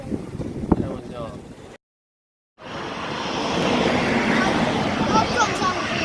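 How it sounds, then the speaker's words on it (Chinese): An airplane passes near Songshan Airport in Taipei on a windy day, a broad rising engine roar building after a short gap, with wind buffeting the microphone and people talking over it. "真的飞机啊！"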